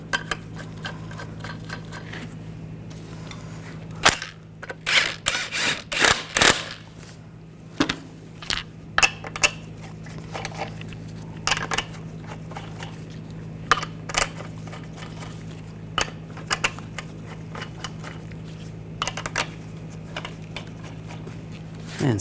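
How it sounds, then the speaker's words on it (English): Lug nuts are started by hand on a wheel of a 2014-2018 GMC Sierra 1500: a cluster of close metallic clinks and rattles, then sparse scattered clicks and light taps against a quiet hum, with no talking. "Now put the wheel on. Get the lug nut started."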